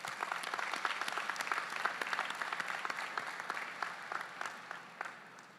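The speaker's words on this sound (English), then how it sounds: "Let's give them all a big round of applause" Applause for graduates at a university convocation ceremony, many hands clapping in a large hall, moderately distant and steady, with individual claps standing out and tapering slightly toward the end.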